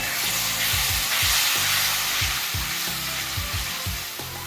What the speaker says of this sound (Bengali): আদা রসুন কষানো হয়ে গেছে পুড়ে না যাক একটুখানি আমি জল দেবো দিয়ে একটু নাড়িয়ে নেব